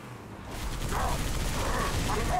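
Rapid gunfire from the shooter game Halo 3 ODST on PC, a dense, steady barrage of shots with bursts and impacts mixed in, loud and continuous after a quieter start.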